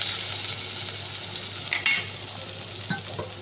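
Onion and slit green chillies sizzle steadily in a pan while an egg chilli dish is cooked. The close, continuous hiss is broken by a short clatter of stirring partway through and light scrapes near the end.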